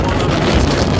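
Strong wind at Haleakala crater on Maui buffets the microphone, a loud, close, continuous low roar with no break.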